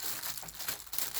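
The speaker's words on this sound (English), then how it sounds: "just take one plastic bag. Make sure you're gonna cut all of them up" A plastic bag is cut up with scissors for a homemade fidget toy, giving close, loud crinkling and rustling with sharp snips throughout.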